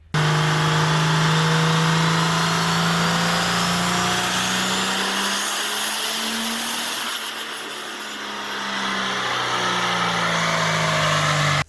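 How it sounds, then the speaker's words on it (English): A 4000 HP Cummins diesel engine doing a minimum-fuel, minimum-boost break-in run on a dyno, a loud continuous roar whose pitch sweeps upward, dips briefly and then rises again. "Minimum fuel, minimum boost, just a nice break-in run. And comes up on boost, sounds great."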